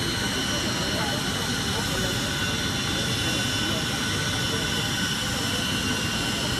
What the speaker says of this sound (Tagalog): papunta na si President-elect Rodrigo Duterte sa kanyang jet.